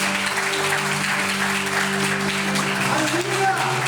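A church congregation claps loudly and continuously in dense, sustained applause, over held keyboard or organ notes and raised voices.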